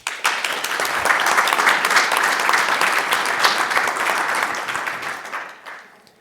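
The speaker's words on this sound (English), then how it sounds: "give them a big round of applause" Audience applause at a masterclass on European additive manufacturing standardization, dense steady clapping from a seated crowd that holds for about six seconds before tapering off.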